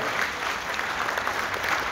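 An audience at a national culture awards night applauds young award recipients, a short burst of dense, even clapping from a crowd close to the microphone.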